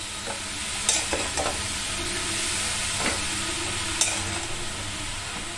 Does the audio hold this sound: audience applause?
no